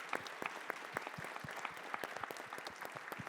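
Dense, steady applause from an audience at a university panel event at SUNY Old Westbury, a close, continuous patter of many hands clapping for about three seconds with no voices standing out.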